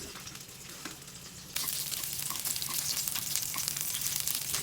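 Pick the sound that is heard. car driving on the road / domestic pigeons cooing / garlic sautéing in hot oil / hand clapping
garlic sautéing in hot oil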